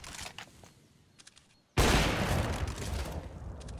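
Sniper rifle and pistol fire in Counter-Strike: faint scattered shots, then a sudden loud burst of gunfire that continues as a dense, sustained barrage.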